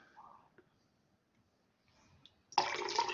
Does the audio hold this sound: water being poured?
yes